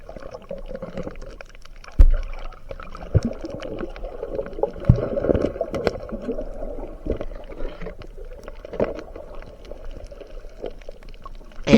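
Strong water current rushing around a boat in shallow water on a fishing outing, a steady broadband wash with occasional knocks and splashes, fairly close and continuous without talk.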